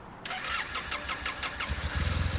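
A Triumph Bonneville motorcycle engine cranks with a rapid rhythmic churn of several starter pulses, then catches and settles into a low, throbbing idle, loud and close with no talking.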